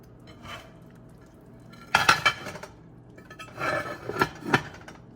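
A metal lid clattering onto a cooking pot of tuna, a faint clink first, then a burst of rattling clanks as it settles, followed by a few more close knocks of pot and lid.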